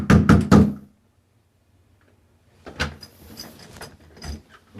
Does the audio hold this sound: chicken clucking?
no